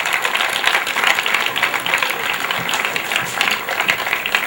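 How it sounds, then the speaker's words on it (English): Graduation audience applauding, a loud continuous wash of clapping filling the room with no voices standing out. "please stand and applaud all these people here"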